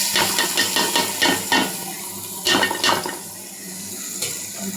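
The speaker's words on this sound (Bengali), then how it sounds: "চাউলটা দিয়ে দিলাম।" Soaked rice tipped into a pot of fried onions for chicken pilaf, giving a series of wet, grainy pours and pattering splashes in bursts, close and fairly loud, with no talk.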